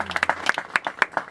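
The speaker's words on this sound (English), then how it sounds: "you can give that a round of applause" Scattered applause from a small group, individual claps clearly audible in an uneven rhythm, fairly close.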